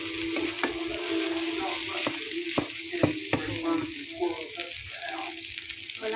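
Vegetable fried rice with onion frying in a pan, a continuous loud sizzle with scattered scraping and tapping from stirring, while a person talks over it.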